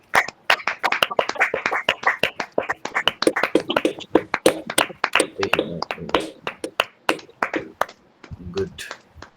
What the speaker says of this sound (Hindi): आज जो परमेश्वर हमसे बातें करने वाला है उसके लिए ताली बजा सकते हैं।